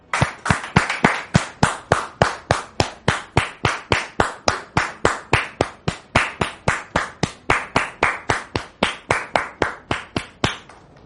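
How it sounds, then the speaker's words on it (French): Studio audience of a French-language talk show applauds to welcome a guest, but the clapping falls into a slow, evenly spaced single-clap rhythm, about three per second, sharp and close, continuing for around eleven seconds without talk. "dame Georgette, que nous recevons sous vos applaudissements."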